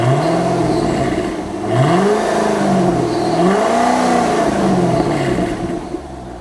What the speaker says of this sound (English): Give it a little rev, April.